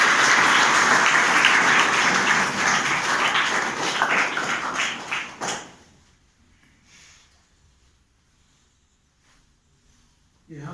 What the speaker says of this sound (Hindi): गुरुकुल परिवार की ओर से ताली बजा के हम स्वागत करते